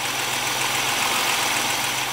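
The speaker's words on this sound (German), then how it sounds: "der Motorlauf ist auf jeden Fall viel ruhiger und viel, viel leiser" Ford Sierra XR4i V6 engine idling after a valve adjustment, a steady, even hum with a faint rhythmic pulse, close and continuous with no talking.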